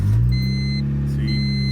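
A 1998 Honda Civic with about 100,000 original miles and its catalytic converter pipe removed runs close by, a loud steady low engine drone after the start with a brief rise at the opening, alone without talk.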